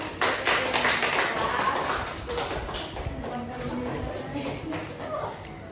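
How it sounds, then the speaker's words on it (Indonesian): A class of students claps for a classmate's correct answer during a geography lesson, a dense patter of many hands that stays steady for several seconds before thinning, with voices talking over it. "Tepuk tangan."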